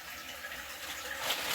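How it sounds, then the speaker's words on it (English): Tap water runs steadily into a container for rinsing spinach, a soft continuous broadband splash that swells slightly toward the end, close and alone with no talking. "I'm going to fill this up with some water"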